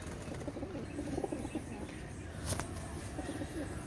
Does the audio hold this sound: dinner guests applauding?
no